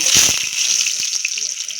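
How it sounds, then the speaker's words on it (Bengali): Potato pieces sizzle in hot oil in a wok, a close, steady bright crackle and hiss with a few louder pops, heard alone. "আলুটাকে তেলে ভেজে নেব"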